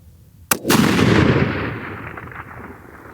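A single sharp rifle shot from a custom 280 AI rifle fired at long range, a loud crack followed by a long rolling boom that fades over a few seconds.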